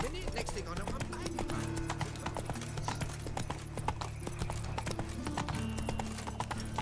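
Roach the horse trotting in The Witcher 3, a rapid steady clip-clop of hooves running throughout, with someone speaking over it.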